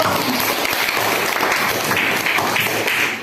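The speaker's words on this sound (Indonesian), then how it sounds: "tepuk tangan untuk kelompok 1" A classroom group of students and teachers breaks into a short burst of applause, dense close clapping that holds steady for a few seconds and then fades.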